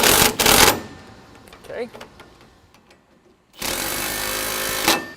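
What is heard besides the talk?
tightening sway bar end links and rod end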